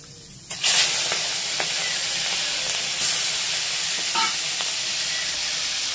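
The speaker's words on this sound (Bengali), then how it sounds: "এবার এর মধ্যে একটু লবণ হলুদ মাখিয়ে এটাকে ভেজে নেব।" Large prawns coated with salt and turmeric sizzle loudly in very hot oil, a steady close hiss after a sudden burst as they hit the pan, with occasional stirring clinks.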